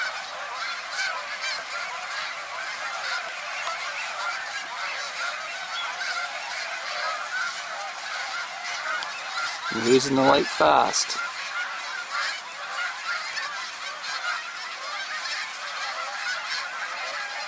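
Geese honking at a desert BLM campsite near Ogilby and Cibola, a brief burst of several loud, close honks over steady wind-like noise, with someone speaking just before.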